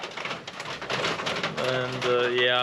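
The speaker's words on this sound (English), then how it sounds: "it sucked to walk in this rain" Steady rain falls on a hiking trail as a constant crackling patter, with a person briefly speaking over it and a tonal hum emerging toward the end.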